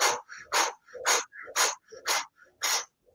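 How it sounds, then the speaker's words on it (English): Quick, forceful breaths through the mouth in a breathing exercise: roughly six loud, close, panting exhales and inhales in a steady rhythm, each a rough airy rush. "50 breaths through the mouth."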